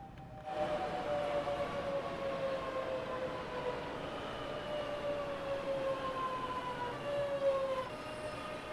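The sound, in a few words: Class 465 train arriving at platform, from video game Train Sim World 2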